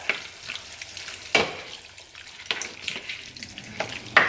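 Tomato-laden one-pot lasagna is stirred in a sizzling pot, with a spoon scraping and sloshing through the sauce in irregular strokes over a low, constant frying hiss.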